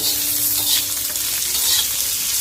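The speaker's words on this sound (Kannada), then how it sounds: "ಜಾಸ್ತಿ ಹೊತ್ತು ಹಂಗೆ ಹುರಿಬೇಡ್ರಿ" Garlic and ginger fry in a pan with a loud, close, continuous sizzle and crackle, and stirring is audible beneath it.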